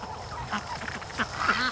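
Ducks quacking at a swamp where ducks swim and forage among bulrushes, several short nasal calls close by, the louder ones bunched toward the end.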